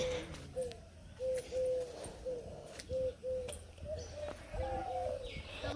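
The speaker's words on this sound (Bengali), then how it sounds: "আর বেশি ঘুঘু পাখি সুন্দর ডাকতেছে" A dove cooing repeatedly in a steady rhythmic series of soft hoots, fairly near, with faint background ambience and no talk.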